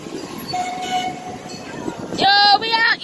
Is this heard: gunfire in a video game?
no